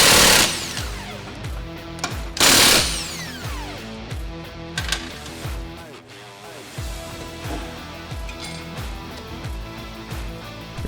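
Power tools and ratcheting wrenches work on the wheels of a Snowrator SNR24021 ride-on snow plow, giving loud whirring bursts and repeated mechanical ticking over a steady mechanical backdrop.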